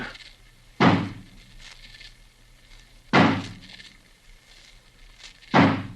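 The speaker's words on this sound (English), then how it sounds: "Johnny, smash the door open for us" An axe smashes into a locked door as a radio drama sound effect: three heavy, loud splintering blows spaced about two and a half seconds apart, each ringing briefly, with a faint murmur of voices between strikes.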